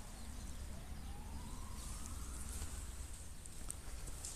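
A distant ambulance or police siren wails faintly, its tone gliding up slowly over steady outdoor background noise.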